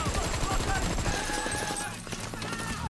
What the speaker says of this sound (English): a gunfight broke out